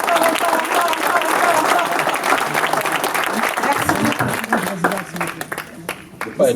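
Conference audience applauding steadily in a hall, a dense wash of clapping that thins toward the end as a voice speaks briefly over it.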